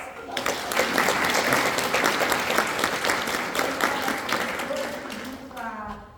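Audience applause at an event, a thick wash of clapping that swells and holds steady, then tapers off near the end as a voice begins to speak.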